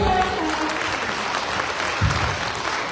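Steady applause from an audience at an annual cultural program for children, a dense continuous clapping that holds at even loudness throughout with no voices on top.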